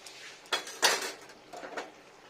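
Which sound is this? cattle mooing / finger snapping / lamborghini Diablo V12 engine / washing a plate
washing a plate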